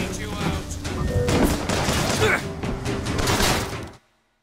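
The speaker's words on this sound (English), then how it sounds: "Booker, rockets!" Rockets fire in the BioShock Infinite video game, a loud barrage of blasts and booms that overlaps with voices and busy gunfire, then cuts off abruptly into silence.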